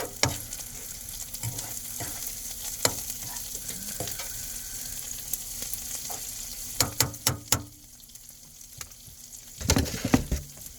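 Onions fry in butter in a pan on a stove inside a van, a constant close sizzle with scattered scrapes and clicks and a louder clatter of stirring near the end, no voices.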